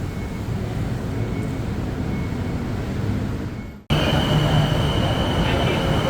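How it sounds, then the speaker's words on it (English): A steady rumbling roar of a Bangkok BTS Skytrain metro train pulling into a station, with a sudden drop then a louder resumption carrying a faint high whine, close by. "Alright, next train has pulled up. I'm waiting for the doors."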